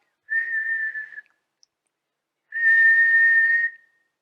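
A person whistles two sustained steady notes, the first about a second long and the second longer after a short pause, clear and close.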